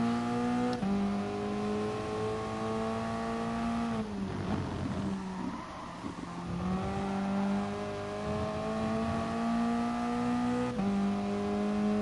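A Toyota race car on a hot lap at the Catalunya circuit holds a loud, close engine note. The pitch climbs steadily, drops sharply with a gear change midway, then rises again.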